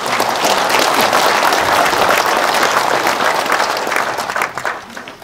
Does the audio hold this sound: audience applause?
yes